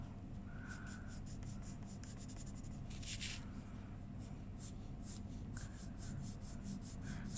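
Colour pencil shading on paper with medium pressure in small areas: a soft, steady scratchy rubbing that comes in quick repeated strokes, quiet and close, with no talking.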